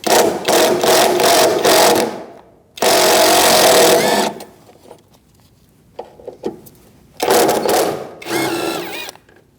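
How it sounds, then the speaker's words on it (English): Power tool bursts loosen strut bolts with an E12 socket on a 2008-2014 Mercedes-Benz C300 front strut assembly; three loud whirring runs of a few seconds each, separated by quiet pauses with small clicks of tool handling. "I'm going to use an E12 socket to remove these 3 bolts."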